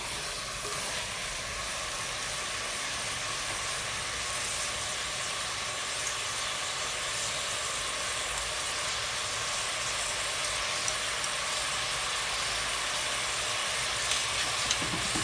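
Ginger garlic paste sautés with onions and mutton for a Nellai-style mutton gravy, giving a steady, even sizzle and hiss that runs unbroken throughout, close and moderately quiet with no talking.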